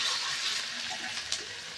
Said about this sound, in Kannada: ಶುಂಠಿ ಬೆಳ್ಳುಳ್ಳಿ ಪೇಸ್ಟ್ದು ಫುಲ್ ಅದೆಲ್ಲ ಹಸಿ ಹಸಿ ಇರೋದೆಲ್ಲ ಹೋಗೋವರೆಗೂ ಅದನ್ನು ಫ್ರೈ ಮಾಡ್ಕೊಬೇಕು